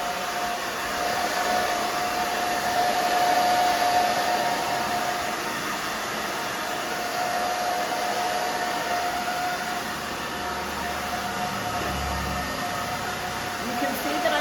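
Hair dryer blowing steadily and loudly while the back of a short pixie haircut is dried, a continuous airy whoosh with a faint whine, a low rumble swelling briefly near the end.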